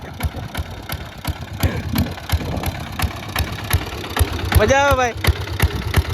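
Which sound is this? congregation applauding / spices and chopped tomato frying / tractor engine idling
tractor engine idling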